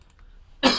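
A single loud, harsh cough bursts out abruptly after a near-silent stretch, close to the listener.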